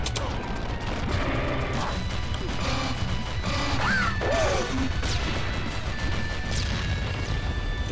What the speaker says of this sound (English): The explosions don't hurt me.